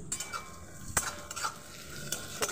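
Onion fries in oil for a chicken and potato curry, a close steady sizzle broken by several sharp clinks and scrapes as a utensil stirs the pan, with no talking.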